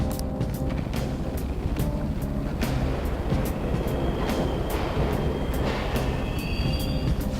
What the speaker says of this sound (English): Trains are totally running.